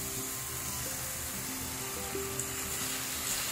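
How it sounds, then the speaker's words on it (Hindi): Masala frying in a pan for black chana curry sizzles steadily as a little water goes in, a continuous hiss with faint crackles and soft clinks, no voices. "So we'll add a little bit of water."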